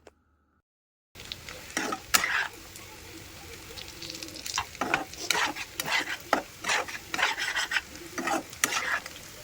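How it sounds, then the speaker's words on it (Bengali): Cooked beef tripe is stirred while it reheats in a pan. A spoon scrapes and clatters in repeated strokes over a soft, steady sizzle, and the sound starts after a brief silent moment. "খাওয়ার আগে শুধু গরম করে নিতেছি"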